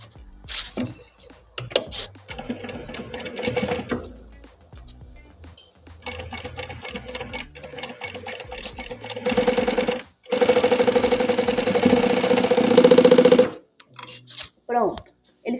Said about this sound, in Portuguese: Vai puxar pra cá e vai passar uma costura.